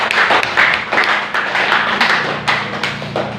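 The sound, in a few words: congregation clapping for God in a church service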